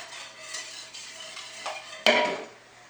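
Egg mixture for French toast being whisked in a bowl, a soft continuous stirring with a sharp clink of utensil against the bowl near the end.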